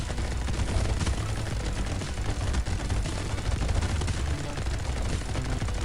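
Machine guns fire nonstop in the arena shooter Brotato, a dense, loud, unbroken rattle of rapid shots that fills the whole stretch without any pause.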